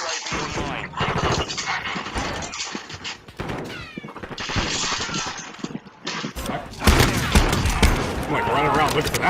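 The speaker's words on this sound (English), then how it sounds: "I wanted to mess around with the shotty" Shotgun blasts in Call of Duty Modern Warfare 2 gameplay, loud, close bursts among chaotic game effects and other gunfire, with a player talking over the action.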